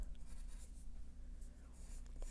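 A pencil scratches faintly across paper while sketching a monster's head, soft continuous strokes with light rhythmic scraping, close and quiet.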